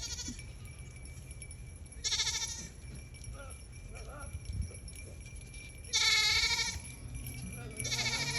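Goats in a farm pen bleat in short, loud nasal calls, three separate bleats spaced a few seconds apart over a faint outdoor background with light rustling and distant sounds.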